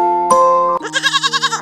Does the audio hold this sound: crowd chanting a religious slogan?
no